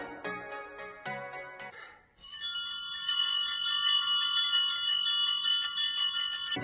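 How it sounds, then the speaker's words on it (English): Bells ring at a church service, a few struck tones at first and then a dense, continuous peal of bright, overlapping metallic chimes that sustains loudly to the end. "They ring the bells."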